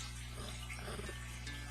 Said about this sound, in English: if you take it and you pour it into this 18-ounce cup